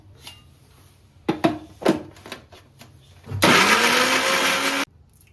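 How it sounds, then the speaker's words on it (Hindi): A mixer grinder loudly grinds beetroot in a steady whirring grind for about a second and a half after a few sharp clanks and knocks, then stops abruptly. "सबसे पहले इसको ग्राइंड करेंगे मिक्सी जार में"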